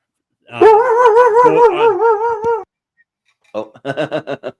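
Dogs barking, with a long wavering howl-like yowl followed after a pause by a quick run of several sharp barks, close and fairly loud.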